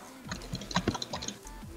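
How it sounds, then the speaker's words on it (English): Rapid clicks of a loud computer keyboard while someone plays Minecraft Mega Walls, a quick irregular cluster of close, sharp keystrokes at fairly low volume, with no speech. "Oh god, that keyboard's loud."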